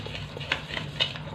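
Dhokla batter being whisked in a bowl, soft rhythmic swishing strokes with a couple of light clinks against the bowl, close and quiet with no voice.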